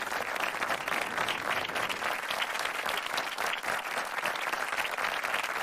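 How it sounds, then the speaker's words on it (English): Sustained applause, a thick, even roar of many hands clapping at moderate level with no talk over it. "Go ahead, give them some hand claps."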